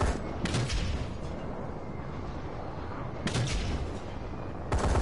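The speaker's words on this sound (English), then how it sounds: "Enemy bombing run incoming." An enemy bombing run in a video game sends a rapid string of heavy explosive booms and crackling blasts over a steady rumble, with loud bursts at the start, midway and near the end.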